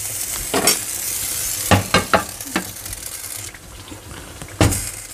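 Meat sizzles steadily in a pan during outdoor cooking on Spain's Costa Blanca coast, with several sharp stirring and scraping clicks rising over the continuous frying hiss.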